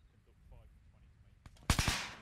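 High-velocity rifle fire in an outdoor field operation against poachers, with a few faint shots followed by a loud, close burst of sharp cracks that echo, and voices faintly in the background.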